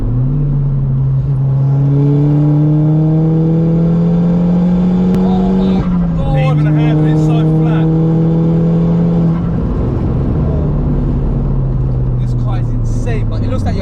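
A 2008 Seat Leon Cupra K1, Stage 2 tuned, revs hard in a loud, rising drone, briefly drops with a crackle of exhaust pops, then climbs again; voices talk underneath.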